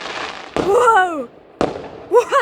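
Fireworks on a celebration night boom in two sharp, loud bursts close by, each followed by excited shouting voices.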